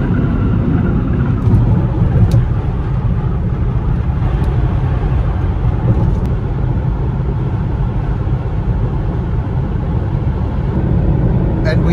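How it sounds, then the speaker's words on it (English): Steady, loud road rumble and tire roar from a 2018 Smart Electric Drive cruising at highway speed around 70 mph, continuous throughout with no speech. "we are now driving past the exit that we originally got onto the highway with"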